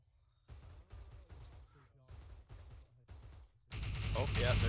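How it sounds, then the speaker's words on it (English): Bursts of automatic gunfire in an Arma 3 battle arrive as a series of short, punchy volleys separated by brief gaps, followed by a louder sustained roar at the end. "I think there were dudes firing at us from all sides"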